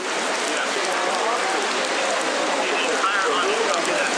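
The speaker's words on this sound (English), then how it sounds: "We've had a lot of rain, especially today." Steady rain in Hawaii's Manoa Valley, a dense, even hiss of drops on surfaces that carries through the whole stretch at a fairly loud level with no pauses.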